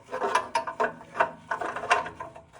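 A ratchet wrench clicks as it is spun back on a socket while removing an O2 sensor from an Acura RSX Type S, several quick bursts of ratcheting close and clear.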